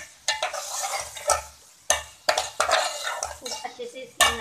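Ginger garlic paste stirred and fried with minced meat in a pan, bursts of sizzling broken by distinct clanks and scrapes of a metal spoon on the pan, fairly close and irregular.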